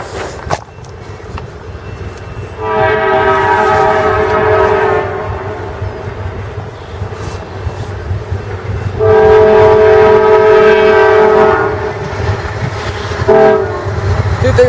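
A Norfolk Southern locomotive horn blares twice in Fostoria, Ohio, each long, loud chord-like blast lasting several seconds, with the rumble of the passing train continuing underneath and between them.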